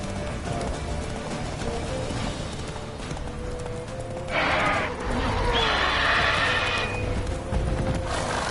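Roach the horse in The Witcher 3 gallops with rapid, steady hoofbeats and lets out a whinny partway through, loud against a busy game soundscape. A voice speaks over it.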